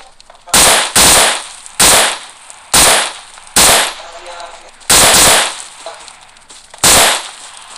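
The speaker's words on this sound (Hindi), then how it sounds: "बॉट फायरिंग दे रहा है" Gunfire from bots in the video game PUBG, seven loud separate bangs spaced unevenly about a second apart, close and sharp, with faint background ambience between shots.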